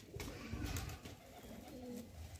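Jeere Gaare pigeons coo in a low, steady murmur at a pigeon sale in Lucknow, the soft throaty calls running continuously and close by with no talk over them.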